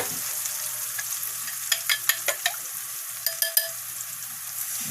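An egg frying in a hot pan over browned ingredients, a steady soft sizzle with a few sharp crackles and pops clustered in the middle, close and alone without talk.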